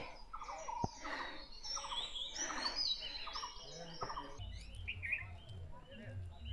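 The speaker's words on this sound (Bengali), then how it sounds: "দেখছো কত রকম পাখির আওয়াজ" Several birds chirp and trill together in open air in a hill forest on Parasnath Hill, Jharkhand, varied tweets and whistles overlapping, with a couple of sharp clicks and a low rumble later.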